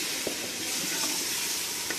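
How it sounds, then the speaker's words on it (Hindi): Chili and turmeric powder frying in a pan for beef daal give a steady, close sizzle with soft stirring scrapes throughout. "हल्का से इसको हमने इस तरह से फ्राई करना है।"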